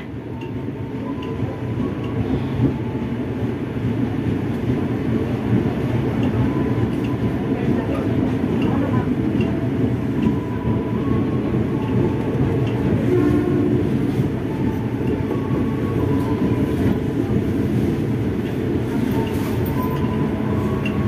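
Commuter train arriving at Tambun Station, a steady loud rumble of wheels and carriage noise running throughout with some clickety-clack, close and continuous.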